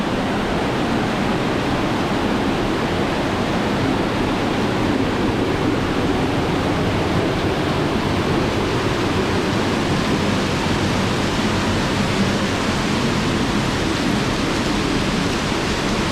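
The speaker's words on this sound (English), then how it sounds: "Probably can't hear me because of the waterfall" A waterfall in a gorge roars in a dense, unbroken wash of rushing water, loud and close, with no pauses or other sounds standing out.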